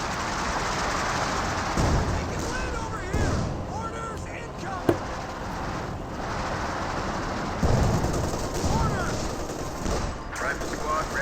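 MG34 machine gun fire and battle noise in the video game Company of Heroes 2, with bursts and scattered impacts running continuously under a commentator's talk, one sharp crack standing out midway.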